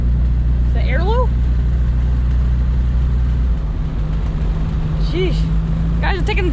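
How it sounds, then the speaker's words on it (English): Opel GT fitted with a new Weber 32/36 carburetor drives along, its engine droning steadily loud and close with a shift in pitch midway, while birds chirp faintly in the background. "Guys, I'm taking a drive in the Opel."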